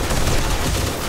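Turrets in 7 Days to Die fire continuously in a dense, loud stream of rapid shots during a horde attack, steady and close with no pauses.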